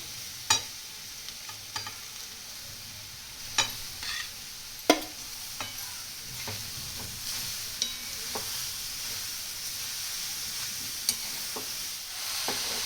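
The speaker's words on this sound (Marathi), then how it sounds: "ते तुपामध्ये चांगलं भाजून घ्यायचं, बीट गाजर" Grated carrot and beetroot roasting in ghee for halwa, a continuous close sizzle with occasional sharp scrapes and taps of a spatula against the pan, no talking.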